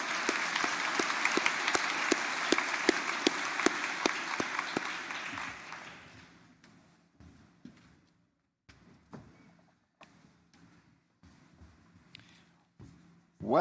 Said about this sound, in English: Please join me in a round of applause in appreciation of our MGA Foundation.